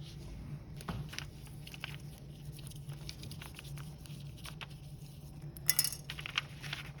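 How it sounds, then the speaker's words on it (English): A metal spoon rubbed back and forth over paper laid on an inked printing block, a soft, steady scratchy patter with small clicks, close and quiet, with no talking. "I'm going to use the spoon again as my little makeshift baron. And just kind of rub it all over."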